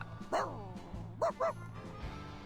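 A small dog gives a few high, yipping barks in quick bursts, one early and a pair close together later, fairly near and alone over a quiet low hum.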